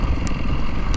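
A Yamaha WR450F enduro motorcycle rides along with a steady, loud, close engine drone, ridden on a wet trail ride in the rain, with brief faint ticks over the engine.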